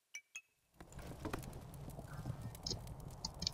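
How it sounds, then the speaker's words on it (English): Rhythmic hoofbeats of a galloping horse in a video game clip-clop steadily after a brief pause, moderately loud with a few faint metallic clinks overhead. "Oh, it's running now. Sprinting horse, go."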